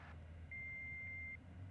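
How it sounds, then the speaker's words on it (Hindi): A single voicemail beep, a thin steady electronic tone lasting under a second, clear over faint low background rumble. "प्लीज अपना मैसेज छोड़िए इस बीप के बाद।"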